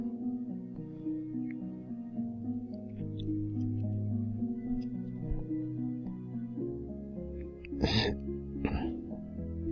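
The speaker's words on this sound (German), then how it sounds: "Ist gerade so eine Husterei." Coughing and throat clearing, two sharp bursts near the end over a steady bed of game music in a Towns city-building game session.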